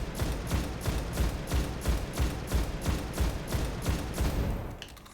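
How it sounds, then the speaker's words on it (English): Scout rifle fire in Destiny's Nightfall mode sounds as a rapid, evenly spaced string of about a dozen loud shots, then stops abruptly. "Take out the hard-hitting enemies with my scout rifle."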